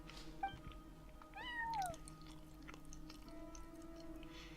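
A cat in the Genshin Impact video game meows once with a rising, wavering cry, clear against low game ambience and a steady background hum.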